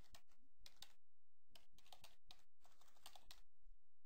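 Quiet, close typing on a computer keyboard comes in short clusters of quick key clicks with brief pauses between them, and no voices.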